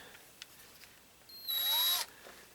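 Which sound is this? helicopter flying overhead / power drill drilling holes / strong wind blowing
power drill drilling holes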